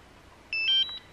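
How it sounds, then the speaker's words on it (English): A DJI Mavic Mini drone remote controller gives a short electronic power-on chime of three or four rising tonal beeps, clear and close against a quiet room. "So I'm gonna go ahead and turn on the controller here."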